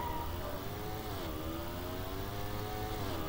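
A motorcycle engine revving in the Midnight Club: Los Angeles video game, a steady mid-pitched drone that climbs and dips slightly, heard continuously and at moderate volume with no talk.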